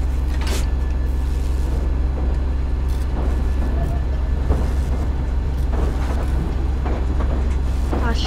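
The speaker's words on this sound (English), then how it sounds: "I'm gonna back the train up" Train in the survival video game Rust, reversing through a service tunnel, with a steady low rumble and rattling under occasional voices.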